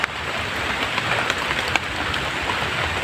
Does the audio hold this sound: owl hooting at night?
no